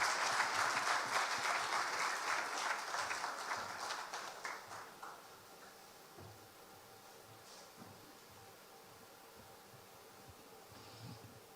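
Audience applause at a banking event for a credit-scoring launch in Ghana, a dense round of clapping that starts loud and gradually thins out, fading to scattered claps and room noise by the end.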